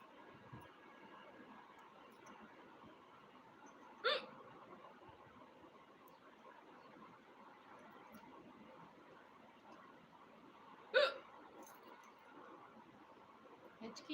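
Two sharp, isolated hiccups, roughly seven seconds apart, stand out against a quiet indoor room with faint background hum.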